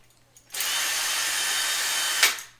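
A power drill whirs steadily at high speed for about two seconds, close and loud, then spins down with a brief rising whine at the end.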